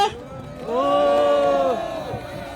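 A crowd at a protest rally by elderly citizens in front of Tapgol Park roars and cheers in one swelling shout lasting about a second, then fades.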